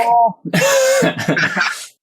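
A person coughing and clearing the throat during a podcast role-play: a short voiced rasp, a brief pause, then a longer rough, breathy cough burst trailing off, close and loud.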